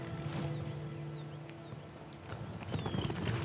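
Horse hooves clip-clopping at a stable in the Skyrim video game, steady hoofbeats with a brief whinny-like call, moderately close, game ambience underneath, no speech.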